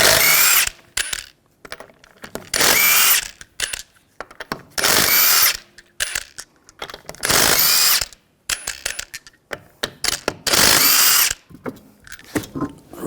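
A power tool spins lug nuts off a Subaru Forester wheel in about six loud, ratcheting bursts of a second or so, separated by short pauses filled with clinks and handling noise.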